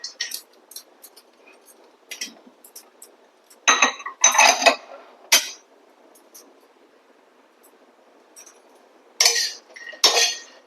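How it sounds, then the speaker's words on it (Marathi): Cashews being lightly dry-roasted in a pan without ghee, with scattered clinks and scraping clatters as they are stirred, in short bursts separated by near-silence. "मी इथे अगदी हलकेसे काजू भाजून घेणार आहे"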